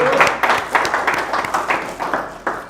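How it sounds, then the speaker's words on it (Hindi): A small group claps for a friend in a casual indoor gathering, uneven and fairly close, with distinct individual claps standing out in a loose, irregular rhythm. "तालियां गाइस एक बार अमित भाई के लिए, जोरदार तालियां"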